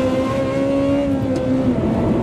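A car engine drones loudly and steadily inside a tunnel, its sustained tone echoing and rising slightly in pitch, with no talk over it.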